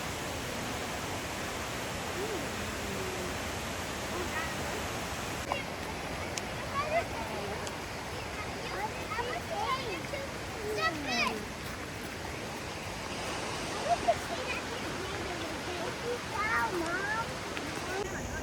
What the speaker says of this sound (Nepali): मैला पानी बगिरहेको छ